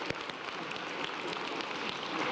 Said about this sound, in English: let's give a big round of applause and warm welcome to Santa Claus